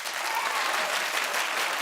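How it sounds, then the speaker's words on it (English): A studio audience claps steadily and loudly throughout, a dense wash of applause with no pauses or talk over it. "Clap if you don't care."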